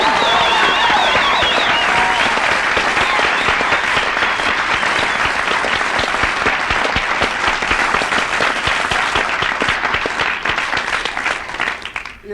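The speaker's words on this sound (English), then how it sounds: "what the fuck are they clapping about?" An audience at a recovery meeting bursts into sustained applause, a dense, loud wash of many hands clapping that carries on for several seconds before tapering off at the end.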